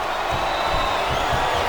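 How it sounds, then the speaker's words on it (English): Arena crowd in the WWE SmackDown vs Raw 2008 video game keeps up a steady, dense roar of cheering with no break, a broad wash of noise close and constant. "The adrenaline is pumping. The crowd is coming alive."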